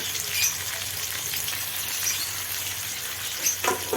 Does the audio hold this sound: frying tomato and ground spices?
yes